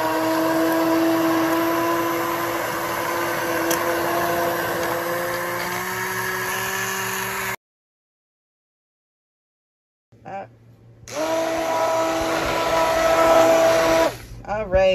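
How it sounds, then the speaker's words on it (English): A handheld immersion blender whirs steadily while mashing cooked apples into puree, running loud and continuous, cutting off into silence for a few seconds, then starting up again with a steady motor hum. "the next step is I'm going to use the immersion blender to mash my apples up"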